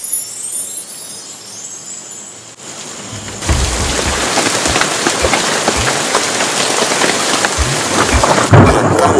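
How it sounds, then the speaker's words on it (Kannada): Heavy rain pours steadily after a quieter start, with low rumbles of thunder rolling underneath; the downpour is loud, dense and close. "ಒಳ್ಳೆ ಮಳೆ ಅಲ್ಲ, ಬಿರುಗಾಳಿ ಬರುತ್ತೆ ಅನ್ಸುತ್ತೆ."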